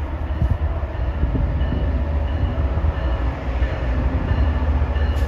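A steady, loud rumble of a train arriving at Route 128 station, continuous throughout with faint rhythmic clatter and no voices.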